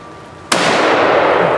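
A single loud rifle shot fired at a doe during a Pennsylvania rifle-season deer drive, a sharp crack followed by a long rolling echo that fills the rest of the moment.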